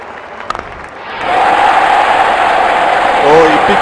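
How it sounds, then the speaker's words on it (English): A cricket stadium crowd at the 2019 World Cup final between New Zealand and England erupts into loud sustained cheering and roaring after a six, rising abruptly from quieter background and holding, with a commentator's voice over it. "Crowd going mad here."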